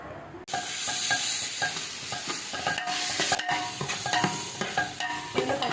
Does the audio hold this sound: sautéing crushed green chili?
yes